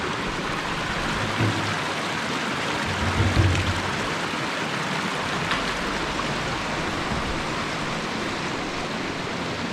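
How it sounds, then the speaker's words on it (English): Muddy water rushing past a bridge in Oorlogskloof Nature Reserve, South Africa, a steady broad roar of flowing water close by with a few low thumps underneath. "Lots of muddy water."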